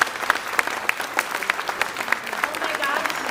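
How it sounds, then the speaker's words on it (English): Audience applauding a high school senior class after a community theatre performance of White Christmas, with close, crisp claps popping out in a fairly regular rhythm over lighter scattered clapping, and some voices mixed in. "one more round of applause for our awesome senior class."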